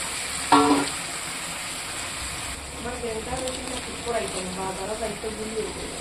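Water splashes into a pan of frying garlic and spices with a short, sharp sizzle near the start, then a quieter frying hiss continues while someone talks.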